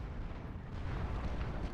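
Bombing explosions rumble in the real-time strategy game Supreme Commander 2 as a base is attacked, a low, dense, continuous roar of blasts and booms without clear separate hits.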